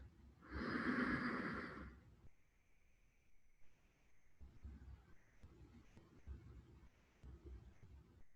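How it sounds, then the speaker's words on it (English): A single long, deep inhalation, close and fairly loud, lasting about a second and a half during tummo breathing meditation, followed by quieter, softer breathing and faint snorts in a hushed, still setting. "Deep breath"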